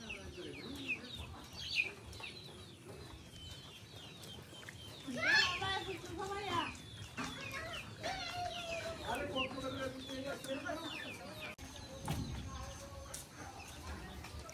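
Chickens cluck and call in short bursts around a village homestead, scattered over fourteen seconds at moderate distance, with one louder squawking flurry midway and faint background noise.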